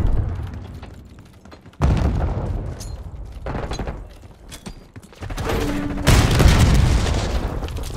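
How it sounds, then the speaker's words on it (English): A concussion grenade detonates in Black Ops 6 multiplayer, part of a run of loud booms and thuds mixed with bursts of gunfire, each impact sharp and close. "Concussion grenade out."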